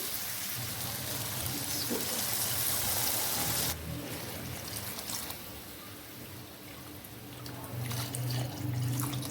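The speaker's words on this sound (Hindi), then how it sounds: "तो यहाँ पे मैं इसमें डालती हूँ पानी।" Water pours into a pot of rice and chickpeas in a continuous splashing rush, loud and close, shifting in tone midway as the flow settles, with a few faint clinks and no speech.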